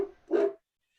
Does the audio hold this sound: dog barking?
yes